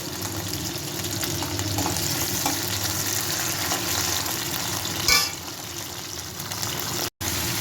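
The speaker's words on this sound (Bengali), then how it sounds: "পেঁয়াজটা ভেজে নেব।" Onion, then capsicum and tomato with fenugreek seeds, frying in a pan for a garlic ginger chicken gravy: a steady close sizzle throughout, with a brief louder crackle midway and a sudden momentary dropout near the end.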